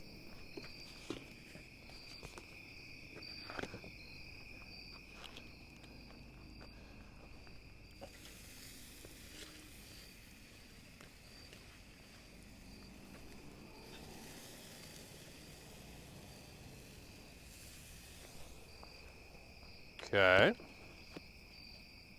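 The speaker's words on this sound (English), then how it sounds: "You guys hear those crickets now?" Crickets chirp steadily at night during a backyard barbecue, a faint, continuous high trill under the scene, with a few footsteps and a brief loud clatter near the end, and a single spoken word.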